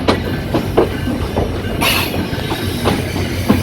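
The Chitra Express passenger train rolls along the rails on its Khulna route, loud and close, with rhythmic wheel clicks over rail joints, a steady rumble and a brief high squeal midway.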